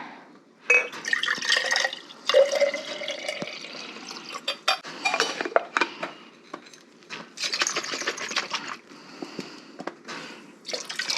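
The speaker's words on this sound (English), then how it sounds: "I'm just gonna give that a rinse." Water runs and splashes into a glass jar as it is rinsed in a kitchen, with bursts of pouring, dripping and sloshing that start and stop over several seconds, close and fairly loud.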